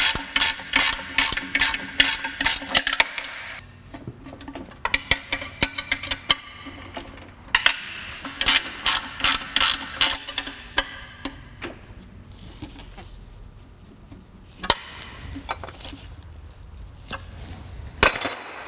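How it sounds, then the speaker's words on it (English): A hand ratchet clicks in quick bursts while running down loose bolts on a 1998 Chrysler Town & Country during transmission and radiator work, with close, crisp pawl ticking separated by pauses and faint clinks. "I'm running them down with the ratchet"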